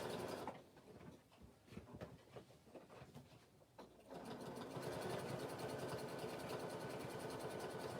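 A sewing machine runs steadily, stitching a decorative double row at a work desk; a few clicks and handling sounds come first, then a continuous close, even whirring motor hum fills the second half.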